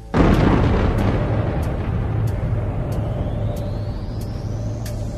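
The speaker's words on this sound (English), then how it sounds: "the time since the explosive birth of the cosmos, the Big Bang" Explosion sound effect standing for the Big Bang, a sudden loud deep boom that rolls on as a sustained rumble with a faint rising whistle, alone without voices.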